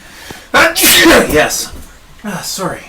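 One loud, close sneeze from a person at a tabletop dice game, followed by a short apology in speech.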